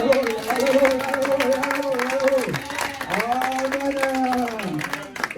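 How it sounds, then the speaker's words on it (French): Members of a church congregation at a consecration service clap their hands beneath prominent singing and speaking voices, the sharp rhythmic claps sitting under the melodic voices for the whole stretch. "Applaudissons pour notre Dieu."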